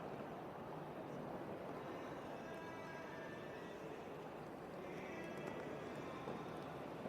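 Horse hooves clip-clop across a show jumping arena at a grand prix in Doha, a faint, steady muffled thudding under broad ambient hum with no talk.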